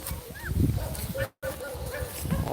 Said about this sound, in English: There's more dogs over here.